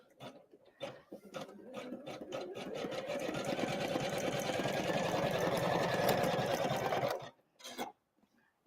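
An embroidery machine sews a blanket stitch, starting with a few separate stitches and then running in a steady, loud mechanical whir for several seconds before it stops, followed by a couple of brief clicks.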